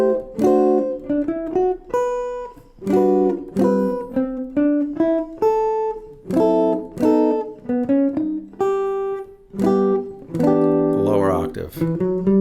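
Clean guitar plays the A section of a jazz standard, a sequence of plucked chord voicings with single-note lines and clear gaps between phrases, close and unaccompanied.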